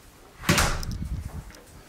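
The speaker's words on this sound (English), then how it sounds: "Close that door behind you" A door shuts inside a science lab with one firm thud and clack, followed by a brief rattle that fades out.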